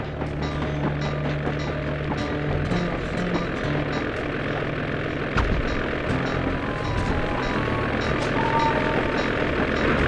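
A propeller airplane engine drones steadily and fairly loudly in Sly 2: Band of Thieves, with scattered short clanks and impacts from the game over the continuous hum.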